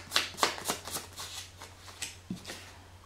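Tarot cards are shuffled and drawn for a reading, producing a quick series of crisp, close riffling snaps, about a dozen light slaps in an uneven rhythm with nothing else audible.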